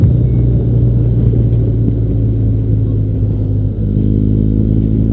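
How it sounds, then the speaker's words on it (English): A car rounds a bend on a 40 mph road at high speed after losing its back end, its engine a loud, steady rumble that holds close throughout before shifting to a slightly different drone near the end. "He lost the back end of that car coming round that bend."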